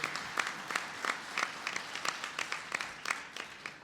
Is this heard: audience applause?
yes